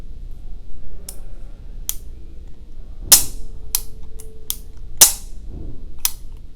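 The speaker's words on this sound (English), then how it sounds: "let's take a look at this trigger since we're here in double action" A CZ 75 SP-01 Shadow Target pistol is dry-fired in double action, giving a series of sharp metallic clicks spaced irregularly, several louder snaps among lighter ticks, close and alone.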